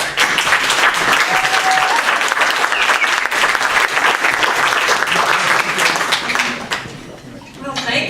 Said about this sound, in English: thank you all for the clapping